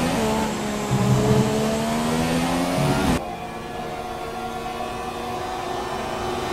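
A McLaren Formula One car in the F1 2017 racing game at Sochi, its engine droning at high revs with tonal harmonics. The note shifts and drops abruptly partway through, then holds a steady, slightly quieter whine.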